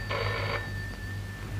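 An old landline telephone rings in a Kannada film scene, one loud electronic ring burst followed by a steady tone, with no voices over it.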